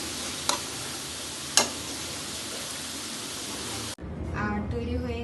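Red amaranth greens frying in a pan and being stirred, a steady soft sizzle with two sharp spatula clicks, then the frying cuts off and a voice talks over quieter background.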